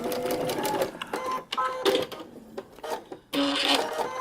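A sewing machine runs short back-and-forth back stitches on a paper-pieced quilt block, giving stop-start bursts of close, clattering needle strokes with brief pauses between them.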